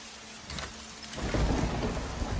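Heavy rain on a stormy night pours as a steady hiss, then a deep thunder rumble swells in about halfway and rolls on at moderate distance, with no voices.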